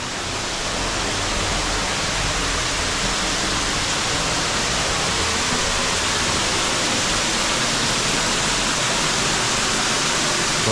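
Waterfall at Newstead Abbey heard from just behind the falling water, a loud, steady broadband roar that fills the whole stretch without pause or change.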